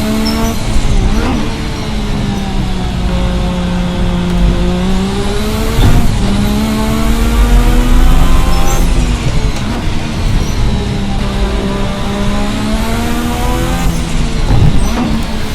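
A 1986 V6 Formula race car engine in the video game Assetto Corsa revs loudly and continuously, its pitch rising and falling through several gear changes, with a few sharp squeals.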